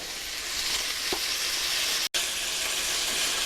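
Sausage and chicken sautéing in a pan for jambalaya, a loud continuous sizzle and crackle with one brief stir, briefly cut to silence midway, no talk.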